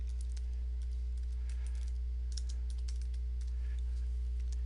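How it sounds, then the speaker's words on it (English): Light, quick keystrokes on a computer keyboard, a scattered run of soft clicks over a steady low electrical hum. "if I highlight it, I can just start typing to change it."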